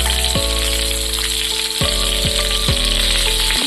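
Hilsa and eggplant curry with turmeric frying in a pan: a loud close sizzle broken by a few short sweeping clatters of stirring, about four strokes over a few seconds.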